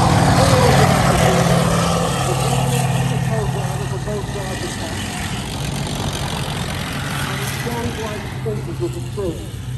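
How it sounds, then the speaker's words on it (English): A 17-ton motor gun carriage, a tank destroyer with a fully automatic gearbox, rumbles past during a wartime parade, its engine a loud, steady drone that fades slightly while a commentator talks over it. "It's not actually a tank, it's what they call it. Motor gun carriage or a tank destroyer."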